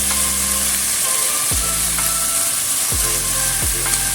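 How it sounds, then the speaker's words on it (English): Food being stir-fried in a pan after liquid potato starch is added, with a constant bright sizzle and occasional scraping stirs from a utensil, close and loud. "Then stir fry everything to mix everything well."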